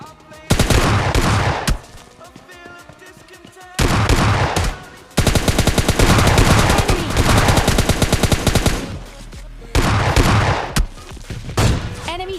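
Gunfire from the mobile video game PUBG Mobile Lite comes in loud bursts of rapid automatic shots, several long volleys separated by brief quieter gaps, with someone talking faintly between them.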